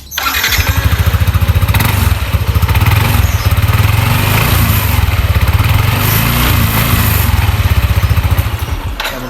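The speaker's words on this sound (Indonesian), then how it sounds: "jadi kalau kalian bisa dengar seperti inilah suara motornya" A Yamaha NMAX scooter engine catches and settles into a steady, loud, rapid thumping idle that runs nearly the whole time, fading slightly at the end, with no voices.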